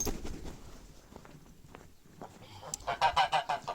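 Geese honk in a quick cluster of loud calls toward the end, after quieter scuffling and a few faint honks.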